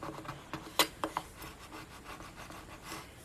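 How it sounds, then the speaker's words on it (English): A scraper tool rubs over transfer tape pressed onto vinyl letters, a soft, close scratchy rubbing in short strokes with a few sharper squeaks near the middle, quiet throughout. "I'm going to take my scraper tool again and just go over the letters"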